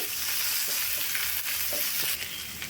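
Masala with fried egg sizzling and frying in a pan, with occasional stirring scrapes, close and steady with no talking.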